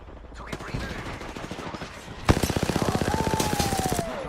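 Rapid automatic gunfire in a squad-based shooter game, a sharp burst opening into a fast, even stream of loud shots with a rising whine over the last stretch.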